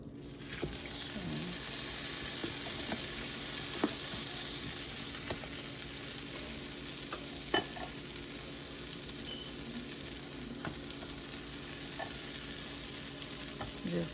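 A frozen Eggo waffle fries in a buttered pan, giving a steady close sizzle and crackle throughout with a few sharper pops and spatters, and no talking.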